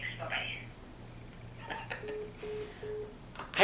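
A short run of telephone keypad dialing tones: four or five brief, evenly spaced beeps, fairly faint over a low steady hum and quiet room noise.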